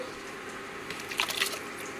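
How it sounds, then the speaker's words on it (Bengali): Washed rice is tipped into a cooking pot of onions and cooked dal, a brief wet, crunchy patter of grains and liquid over a low steady background hum. "ধুয়ে রাখা চাল দিয়ে দিলাম"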